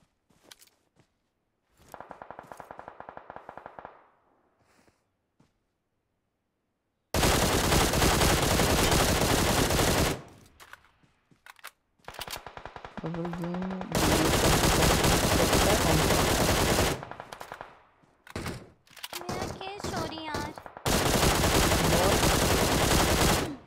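Gunfire in the mobile battle-royale game PUBG Mobile comes as loud automatic bursts, several long sustained volleys broken by short gaps, with faint talk in the quieter stretches.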